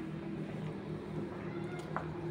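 A kitten meows at feeding time indoors, steady cries repeating close by over a constant low household hum, with no talk over them.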